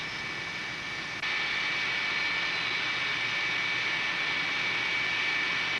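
Gas turbine engine idling on a test stand, a loud steady jet roar with a high whistling tone that steps up in level after a second and then holds constant.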